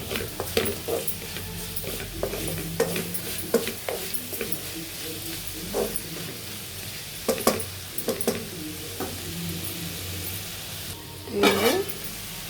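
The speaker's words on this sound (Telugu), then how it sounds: "సరిపడా కారము, ఉప్పు కారము ఈ ముక్కలకు పట్టేలా కొంచెంసేపు వేగనివ్వాలి." Cluster bean pieces frying with chili powder and salt in a pan, a steady close sizzle broken by repeated stirring scrapes and clinks, with a louder burst of stirring near the end.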